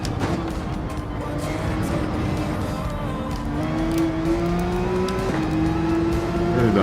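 A Porsche engine in the racing video game Gran Turismo 7 hums steadily as it accelerates, its tone climbing through gear changes under a constant layer of road and tire noise, with faint talk in the background.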